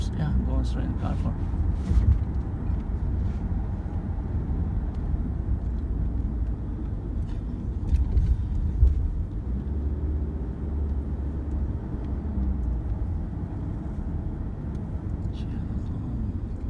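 Car driving through Homs during lockdown, heard from inside the cabin as a steady low engine and road rumble, with occasional small bumps and people talking over it throughout.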